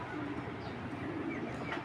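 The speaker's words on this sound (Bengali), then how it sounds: "দেখছেন এই একটা নাপতা কবুতর" A large colouring Giribaz pigeon coos softly in a low, continuous murmur, faint and close, with no talk.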